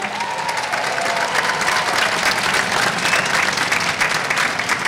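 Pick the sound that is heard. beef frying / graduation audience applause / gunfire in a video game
graduation audience applause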